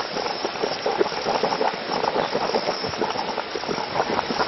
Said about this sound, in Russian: Кипящая вода журчит.